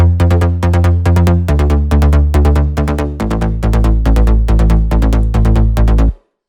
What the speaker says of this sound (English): then we have the main bass, which sounds like this.